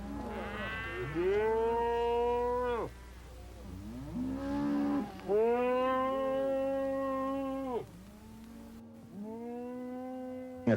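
Cattle moo during a fall ranch roundup, several long, loud, drawn-out calls following one another closely with short gaps between them, with no talk.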